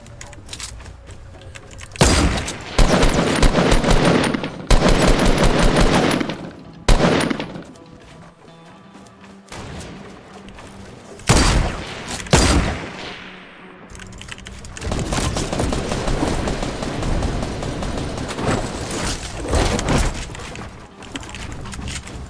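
Gunfire in the video game Fortnite Battle Royale: loud rapid bursts of automatic weapon fire and sharp single shots come in several clusters, broken by brief lulls and followed by a long stretch of dense, steady game noise.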